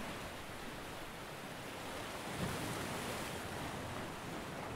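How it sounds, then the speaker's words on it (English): Ocean waves lap steadily on a beach shore in a continuous, broadband wash with a soft swell midway, with no voices present. "the sound of the lapping waves, gently caressing the shore"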